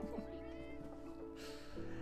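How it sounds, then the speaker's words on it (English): Kitten cats from the Minecraft video game meow repeatedly, high and short, over continuous game music, with a person's voice in the background. "All of my little kitten cats."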